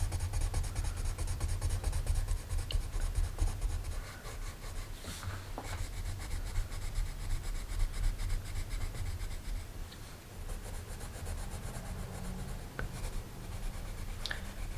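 Colored pencil shaded hard across textured paper, a steady, close, continuous scratchy rubbing that persists throughout without pauses or voices.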